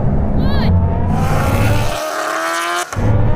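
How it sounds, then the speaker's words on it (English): Loud roaring engines of a Bugatti Chiron Super Sport, Kawasaki Ninja H2R and Rimac Nevera accelerating hard in a rolling race from 50 mph, with rising pitch sweeps and a brief dip before the roar returns. "Now we're going to have a rolling race from 50 miles an hour in second gear"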